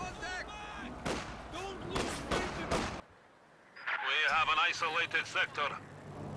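105mm artillery shells firing and exploding in the video game Company of Heroes 2, several sharp booming blasts in quick succession early on, heard under continuous commentator speech.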